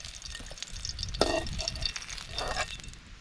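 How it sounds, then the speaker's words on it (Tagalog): Fish slides into hot liquid bubbling with kamyas in a pot, bringing a brief splash and crackling sizzle that rises, then settles into a low simmer. "Ihalo na natin yung ating isda."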